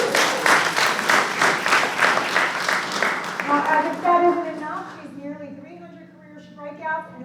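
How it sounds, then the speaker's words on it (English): A round of applause at a school board meeting, clapping for a softball player, steady for about three seconds, then dying away as a voice talks. "give her a round of applause"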